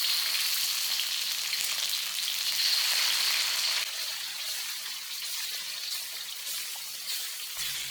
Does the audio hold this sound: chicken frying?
yes